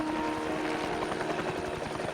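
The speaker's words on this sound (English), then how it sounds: "That's why the helicopter is landing outside your hotel" A helicopter setting down outside a hotel in the 007: Blood Stone video game, its rotor chopping in a rapid steady pulse over a whining engine hum, close and continuous.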